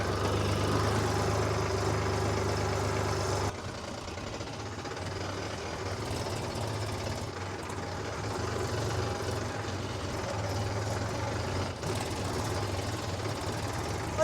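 A new Mahindra tractor engine runs in first gear, a steady low diesel chug with a rhythmic knock heard close up throughout, and someone talks over it.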